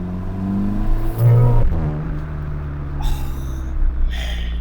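A VW Polo GTI driving on the road to Cape Point, its engine a low steady drone with a short rise in revs partway through and some wind noise, with no voices.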